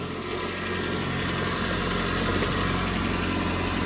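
A 1998–2005 Ford Focus MK1 with a 2.0 engine idles steadily and close by after clutch master cylinder work, giving an even hum with a faint high whine and no voices.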